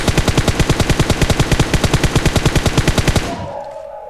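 Automatic rifle fire in PUBG Mobile, a rapid loud burst of about thirty evenly spaced shots over three seconds, ending abruptly with a short fading ring.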